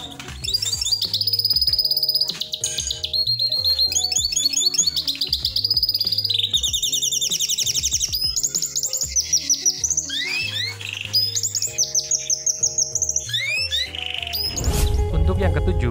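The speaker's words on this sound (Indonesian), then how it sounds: "burung lizard juga dicari dari suaranya karena burung ini termasuk singer loh" A Lizard canary sings a long, varied song of rapid trills, whistled notes and chirps, bright and close, with a brief burst of other noise at the very end.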